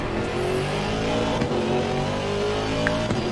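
Race car at full throttle on the Monza circuit in a racing game, a steady loud high-revving engine drone that climbs through the gears, with no voices.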